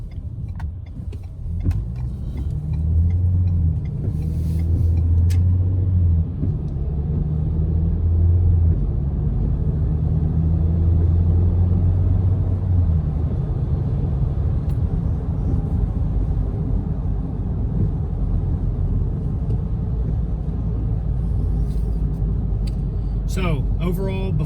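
A 2021 Ford Bronco Sport Badlands drives along a back road toward a right-hand turn, its engine and road noise forming a steady low rumble heard from inside the cabin, with someone talking over it much of the time.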